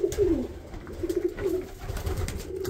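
Pigeons coo repeatedly in a loft, low rolling calls close by in several phrases, with faint background rustling and no talk.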